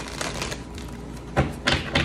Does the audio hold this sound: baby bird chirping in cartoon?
no